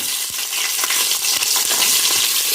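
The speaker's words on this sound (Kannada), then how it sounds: "ತುಪ್ಪ ಎಣ್ಣೆ ಎಲ್ಲ ಹಾಕಿದ ಮೇಲೆ ಚಕ್ಕೆ ಲವಂಗ ಎಲ್ಲವನ್ನು ಹಾಕಿಕೊಳ್ಳಿ ಸೋಂಪು ಹಾಕಿಕೊಳ್ಳಿ ನೀರುಳ್ಳಿ ಹಾಕಿಕೊಳ್ಳಿ" Onions with cinnamon, cloves and fennel frying in ghee and coconut oil for mutton biryani give a loud, dense sizzle, with occasional stirring scrapes and clinks throughout.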